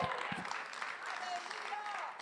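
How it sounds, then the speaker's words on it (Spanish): A church congregation claps in praise during a Spanish-language worship service, a dense continuous patter of hands mixed with shouts and voices, fairly quiet and distant. "Alguien use esas manos para aplaudir el nombre del Rey de Gloria."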